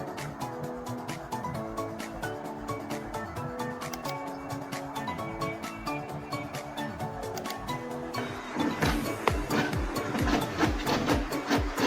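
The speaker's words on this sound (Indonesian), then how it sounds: "Ini adalah email masuk, sekarang kita print." An office printer prints out an incoming email for archiving, giving a steady, rhythmic mechanical whir with regular clicks and tonal stepping that grows louder and busier near the end, with no talking.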